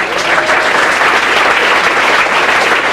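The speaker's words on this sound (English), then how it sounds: "So let's all give her a round of applause." An audience gives a round of applause at a live show, dense sustained clapping that stays loud and even from start to finish with no voices over it.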